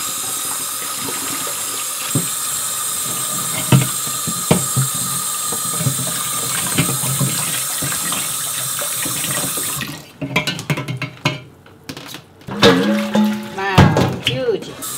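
Cold water running from a tap into a sink, a steady hiss that gives way to splashing, clunks and handling sounds in the last few seconds.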